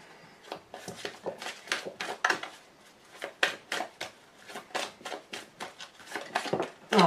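A deck of tarot cards is cut and handled close up, with a rapid series of crisp papery slaps and flicks in uneven bursts, fairly quiet, with no voice over them.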